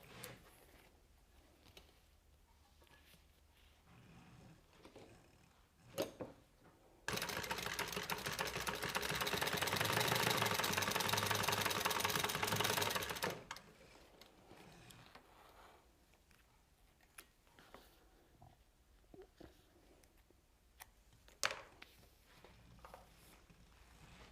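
A home sewing machine runs a 1/8 inch seam in one steady burst of rapid whirring stitching, about six seconds long, set against quiet room background with faint handling noises.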